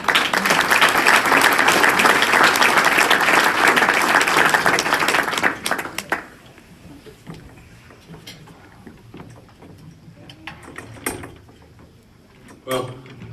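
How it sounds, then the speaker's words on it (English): Big round of applause from a Hall of Fame audience for the inductor, loud and dense for about five seconds, then cutting off abruptly into a quiet room with a few scattered claps and faint noises. "let's also give a big round of applause to Alexis' inductor tonight"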